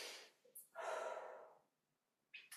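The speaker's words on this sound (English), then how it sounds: "Take a breath there." A deep breath during a yoga practice: a short sharp inhale, then a long audible exhale lasting most of a second, close and soft, followed by quiet and another quick inhale.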